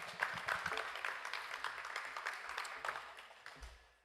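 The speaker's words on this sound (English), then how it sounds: "Let's have another big round of applause for all our candidates" Audience applause at a student-run ward election debate, a steady patter of many hands clapping for the candidates at a moderate distance. It fades out over a few seconds with no one speaking.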